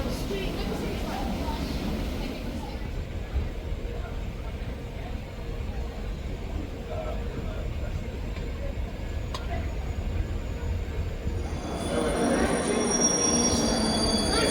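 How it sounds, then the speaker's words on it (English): A train on rails in London approaches with a loud, continuous rumble and metallic wheel squeal, growing steadily and swelling near the end as it draws close. "The train is coming."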